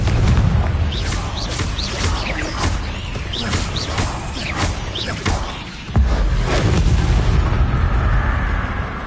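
Booming spell explosions from the Hogwarts Legacy video game, a dense run of loud blasts and crashes with an abrupt heavy hit near the end, amid continuous game action noise.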